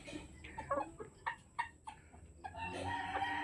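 Hens and pullets cluck and chatter in short bursts nearby, with a rooster-like call rising near the end over quiet farmyard background.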